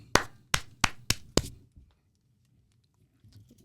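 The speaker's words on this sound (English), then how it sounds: "Slow clap." Five slow, evenly spaced hand claps ring out close and alone, each a sharp crack with a short decay, followed by near silence.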